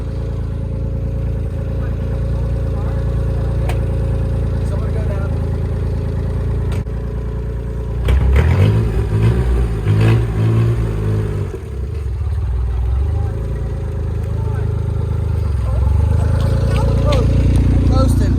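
A small engine in a Subaru Justy with no brakes runs steadily, then rises and falls as it drives off, with voices talking over the rumble.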